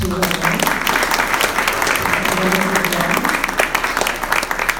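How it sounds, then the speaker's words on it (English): Lecture listeners applaud after a talk on an ancient Zoroastrian ritual, loud, continuous clapping throughout, with a voice faintly mixed in. "Let's give another hand of applause to"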